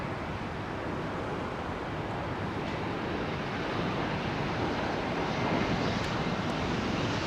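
A Rolls-Royce Trent-powered airliner arriving on runway 27R at London Heathrow gives a steady, broad jet roar that swells slightly toward the end, with no voices.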